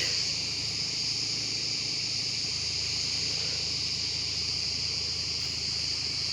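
Crickets chirp outdoors among olive saplings on a hot day, a constant, shrill buzzing chorus that fills the background without pause, steady and fairly loud.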